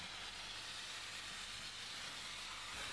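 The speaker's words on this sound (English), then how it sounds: "a Kärcher steam cleaner can cut through it without needing any chemicals" Kärcher steam cleaner blasting steady, loud hissing steam without a break, a continuous close broadband rush over a faint low rumble, with no voices.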